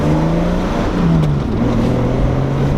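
A BMW E30 engine pulls steadily under acceleration while driving, a loud, close, continuous drone whose pitch climbs, dips briefly, then climbs again, with no talking.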